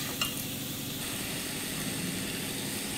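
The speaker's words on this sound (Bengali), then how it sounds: "এখন আমি এটা নেড়ে চেড়ে নিচ্ছি।" Tomato, nut paste and ginger-garlic paste being stirred in a hot pan, giving a soft, steady sizzle with faint scraping that runs quietly and unbroken throughout.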